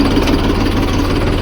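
A Massey Ferguson tractor engine runs on a farm, chugging in a steady, loud low rhythm right up close, with no voices.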